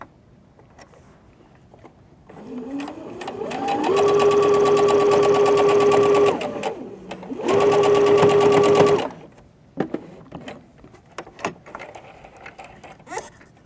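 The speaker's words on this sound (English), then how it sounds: "And then you go back, and now you're going to top stitch." Sewing machine topstitching along the bound edge of a dress, heard close and loud in two sustained bursts of steady humming stitching separated by a brief pause, with quieter handling noises before and after.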